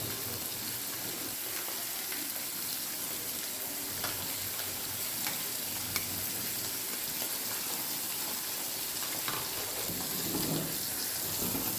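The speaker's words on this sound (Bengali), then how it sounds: "মাছটা সাইডটা ঘুরেই ঘুরেই ভাজবো।" Fish sizzles loudly and continuously in hot oil in a pan, a dense close-up frying hiss with occasional soft stirring sounds and no voices.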